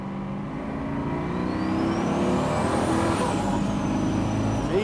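Twin-turbo 1981 Pontiac Trans Am pulling hard under acceleration, a steady loud engine roar with a rising whine as boost builds, heard close from inside and continuous throughout.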